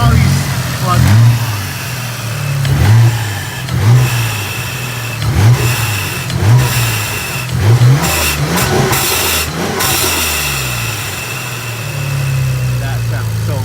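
A tuned Mitsubishi VR4 engine is revved in repeated loud bursts about every second, each rising and falling over a rough idle, with people talking excitedly nearby.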